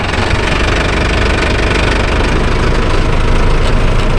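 A Mahindra Arjun Novo 605 DI tractor engine runs steadily nearby, a loud, dense diesel rumble with a constant knocking throb and no pauses.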